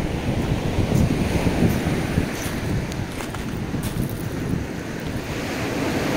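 Sea waves washing onto the shore near a lighthouse at Sampur, a close, continuous surf roar mixed with wind buffeting the microphone and no voices.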